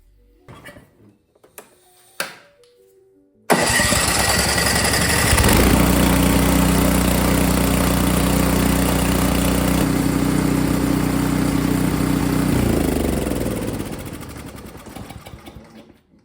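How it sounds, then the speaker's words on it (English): A small snowblower engine with a replaced carburetor cranks on its electric starter, catches and runs at a loud steady roar, then its pitch shifts and it settles lower before quieting near the end, after a few clicks and knocks. "Now we're going to go ahead and use the electric starter."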